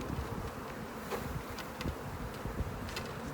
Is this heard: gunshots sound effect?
no